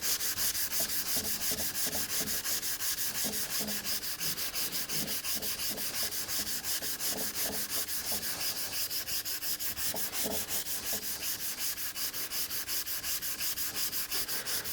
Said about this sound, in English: looking at it as I sand it, I can see a few planer marks